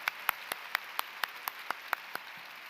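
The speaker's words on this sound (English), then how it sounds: "Let's give her a round of applause" Sparse, evenly spaced claps ring out at an awards ceremony, roughly a dozen sharp hand claps in a steady rhythm with quiet between them, sounding like one or a few people rather than a full crowd.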